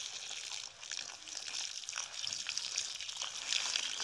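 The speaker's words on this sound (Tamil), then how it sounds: "வந்து மண்ணை வந்து நம்ம தண்ணி ஊற்றி பிசைஞ்சிக்கிறோம்." Water poured onto soil to mix clay for building a rocket stove in a village, heard as a steady, close splashing gush that runs continuously with no talk.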